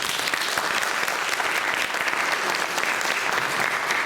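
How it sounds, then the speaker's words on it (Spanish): Audience at an analytics conference gives a strong, dense round of applause, continuous and even for its whole length with no speech over it. "les pido que lo recibamos con un fuerte aplauso"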